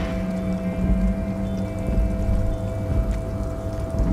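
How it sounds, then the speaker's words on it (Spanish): Steady, close rain keeps falling throughout in the video game Disco Elysium. It forms a dense hiss over a low, constant hum, with no talking. "Está recogiendo agua de lluvia."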